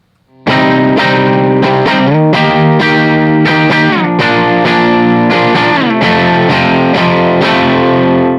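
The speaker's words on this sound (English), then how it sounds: "Here's our 1966 Princeton Reverb with a Jensen C10NS." Electric guitar chords strummed through a warm, slightly driven 1966 Fender Princeton Reverb tube amp with a Jensen C10NS speaker and spring reverb, steady and loud, notes ringing and changing every second or so.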